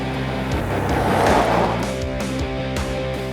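A 2020 Ford Endeavour Sport SUV driving over rough ground, a steady engine and road rumble that swells and fades with changing tone, heard without talk.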